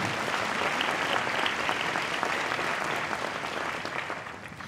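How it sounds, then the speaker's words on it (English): Crowd applause at an evening unveiling reception, a thick steady wash of many hands clapping, loud at first and slowly tapering off toward the end. "So big round of applause for everybody being here tonight and taking time."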